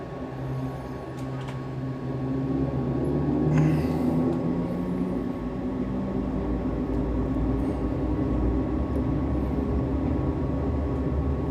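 Majestic Dash-8 turboprop engines spooling up for takeoff in a flight simulator, a steady loud low drone and rumble with a faint high whine, continuous throughout with no talking.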